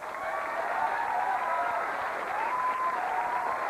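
Studio audience at a late-night talk show applauding, steady dense clapping held at moderate level throughout, slightly distant with a faint tonal hum underneath.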